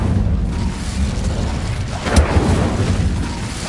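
An Incendio fire spell cast in Hogwarts Legacy roars as a dense, rumbling whoosh of flame, with a sharper burst near the middle, loud and sustained throughout.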